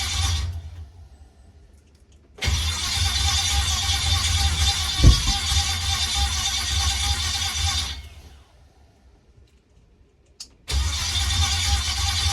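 An LS V8 engine cranking and firing up, a loud steady roar that starts abruptly, holds for several seconds with a sharp thump midway, cuts out, then catches again, close by.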